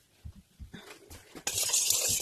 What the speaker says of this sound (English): I'm going to mix it in a little bit with this spoon